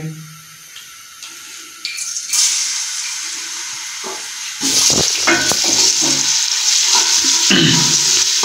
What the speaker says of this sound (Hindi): तो इसमें सबसे पहले हम लहसुन और अदरक का पेस्ट डालेंगे।